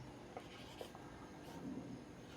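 Digits being written one after another on paper during a trigonometry lesson, heard as faint, soft scratchy strokes over a steady low room hum.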